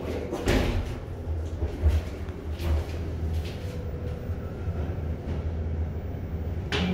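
A heavy Thyssenkrupp hydraulic elevator door slides and thuds shut with a low rumble, followed by mechanical hum and a later knock; the elevator then fails to work.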